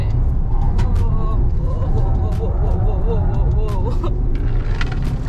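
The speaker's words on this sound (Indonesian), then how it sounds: "Nah, itu kedengeran suara mesinnya" A Toyota Agya GR Sport tuned by GR Garage driving on the road, its engine droning steadily inside the cabin with some rising tones, while people talk over it.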